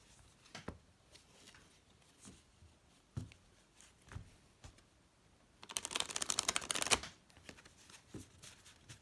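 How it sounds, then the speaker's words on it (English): Oracle cards being shuffled by hand: soft scattered taps and slides, then a dense rapid riffle of cards lasting about a second, close and quiet with no talking. "those are not too easy to shuffle."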